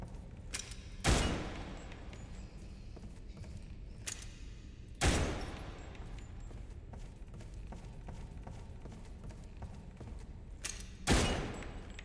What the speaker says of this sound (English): you'll need to look for all the little lights and shoot them one by one